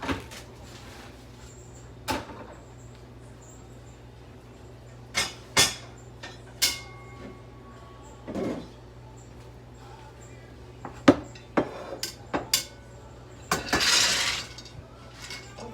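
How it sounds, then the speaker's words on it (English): A cooking pot swapped for a larger one in a kitchen where cranberry sauce is made, with scattered knocks, clanks and cupboard bumps, then a brief rattling clatter near the end, against quiet background hum. "Trade out this pot for the other one."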